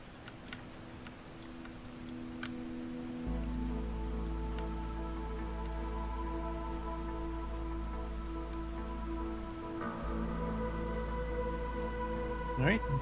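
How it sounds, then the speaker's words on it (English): Heavy rain in the settlement-building game Against the Storm, a steady wash of falling drops with a low continuous drone underneath and a faint ticking layer, holding level throughout with no talk. "It's raining hard again."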